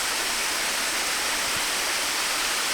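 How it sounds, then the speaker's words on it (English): East Fork of Cascade Creek rushing just above Tise Falls in a rocky gorge at Hanging Rock State Park, North Carolina: a loud, unbroken roar of white water filling the whole moment, with no voices. "you can probably tell by the sound of water, we are down in the gorge"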